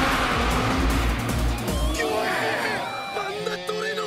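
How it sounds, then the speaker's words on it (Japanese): Drifting car in the racing game CarX Drift Racing, a loud engine roar that drops away around the midpoint, followed by rising and falling tire squeals and revving tones continuing to the end. "これぞ本物のドリフト。"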